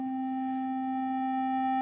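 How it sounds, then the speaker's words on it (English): A steady synthesizer tone holds one pitch, a pure hum carrying faint extra harmonics above it, continuous and unchanging throughout. "you start hearing those extra harmonics coming in"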